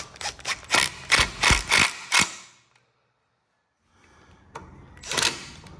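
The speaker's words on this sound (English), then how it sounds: "and then just tighten your clamp bolt" Tightening the clamp bolt on a Stihl edger: a run of sharp ratcheting clicks and creaks up close, then a pause with near silence, followed by a few more clicks and a final burst of mechanical noise.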